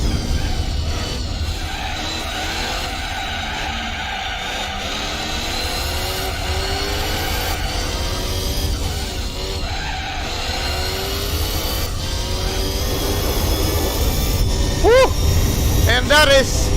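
Toyota RSC race car in Gran Turismo 4 on the Tahiti Maze rally stage, engine droning steadily throughout with tire skids and squeals near the end, under continuous commentary.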